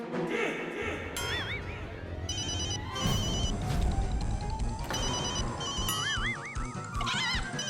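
A mobile phone rings with a warbling electronic ringtone, repeating in short melodic bursts over a busy background of music and room noise.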